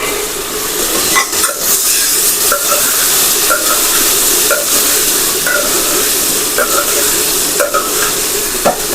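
Potatoes and curry leaves fry in a pan with a loud, continuous sizzle. Regular scraping strokes from stirring recur about once a second, close up, with no talking.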